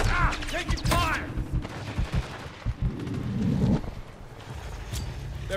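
Call of Duty multiplayer match with bursts of gunfire and explosive impacts, mixed with game voice callouts and a busy battlefield soundscape, moderately loud throughout.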